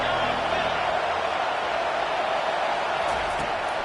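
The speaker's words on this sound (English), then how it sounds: "Listen to this crowd just shaking the girders of this place" A roaring stadium crowd in the NCAA 25 college football video game, a dense, steady wash of cheering noise that holds at an even, loud level throughout with no pauses.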